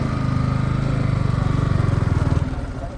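Motorcycle engine chugging steadily close by on a rough, broken path in Haridwar, its pulsing exhaust beat loud and even before easing off near the end.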